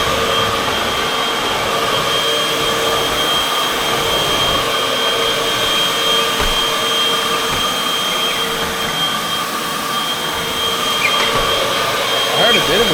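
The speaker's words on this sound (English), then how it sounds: "Shows just how powerful this vacuum is." A powerful vacuum cleaner drones steadily at close range, a constant whine with a high tonal hum that never lets up.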